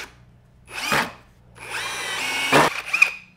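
Power drill driving 3.5-inch screws through a wooden dining table base into a leg: a short whir first, then a longer sustained motor whine rising in strain, with a brief spike near the end.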